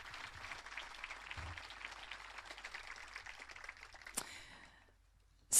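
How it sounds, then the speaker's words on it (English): A scattered outdoor crowd at a school moving-up ceremony claps for the buildings and grounds team, light, distant applause that thins out and fades near the end, followed by a sudden loud knock. "please join me in giving a round of applause to all of those individuals"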